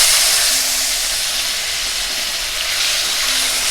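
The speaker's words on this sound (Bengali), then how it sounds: "এইবার আমি তেলের মধ্যে দিয়ে দিচ্ছি টমাটো।" Tomatoes tipped into hot oil with whole cumin seeds in a pan give off a loud, steady, close hiss of sizzling that holds evenly throughout.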